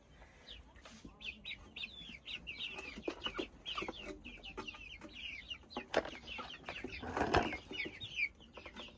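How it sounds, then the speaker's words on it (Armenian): Chicks cheep steadily in a busy, overlapping chorus while hens cluck nearby; the peeping is fairly close and continuous, with occasional louder bursts and faint background noise, and no speech. "Ճուտիկներն են, ճուտիկներ։"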